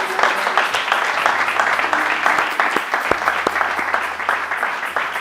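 Church congregation breaking into sustained applause for the Lord, dense steady clapping from many hands filling the room throughout, with no talk over it.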